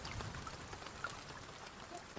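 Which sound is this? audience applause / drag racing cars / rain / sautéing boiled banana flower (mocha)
rain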